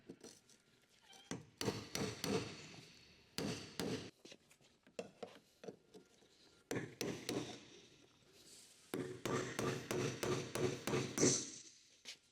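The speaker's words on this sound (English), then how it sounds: "Use the flathead screwdriver and hammer to tighten the lock ring." Hammer blows tap a flathead screwdriver against the fuel pump lock ring of a Jeep Wrangler JK fuel tank in short clustered bursts of sharp metallic strikes, separated by brief pauses, close by.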